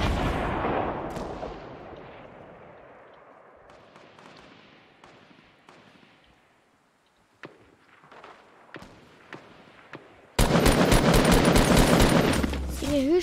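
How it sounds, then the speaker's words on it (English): Gunfire in Fortnite during a match, with scattered sharp shots and bursts growing denser into a loud rapid volley near the end. "Who's shooting at me?"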